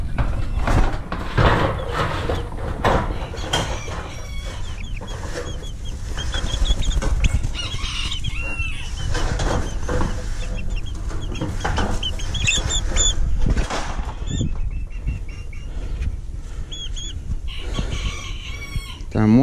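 Small chickens, a young hen and a young rooster, cluck steadily close by in a cage, with soft chirps and occasional crowing-like calls over a constant background rustle.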